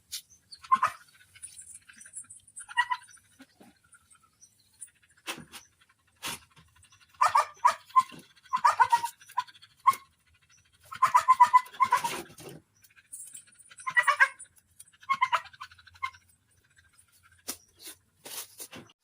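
A family dog pants in short bursts with occasional sharp yips and whimpers, fairly close and alone, pausing between rhythmic breathing runs.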